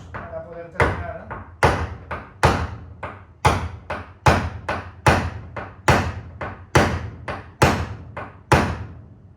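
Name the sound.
pointed hammer tapping aluminium car body panel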